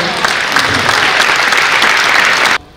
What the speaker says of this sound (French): Je crois que nous pouvons applaudir tous nos champions et nos championnes pour les prestations.